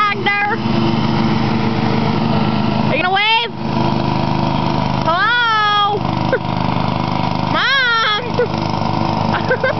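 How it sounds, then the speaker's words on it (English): A riding tractor lawn mower engine runs steadily and close throughout a large yard, its drone continuous beneath loud nearby talk and a shout. "Riding on my tractor."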